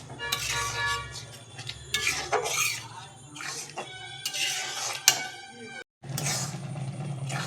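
A pressure cooker is rinsed and water poured in while making dal, with close clattering and scraping of metal pot and utensils, bursts of splashing water and a brief silent gap; a voice speaks now and then.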